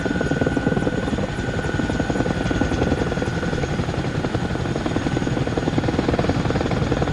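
ViperXT and Oosie TAG training helicopters fly close by, their rotors making a loud, continuous chopping buzz throughout with no talking.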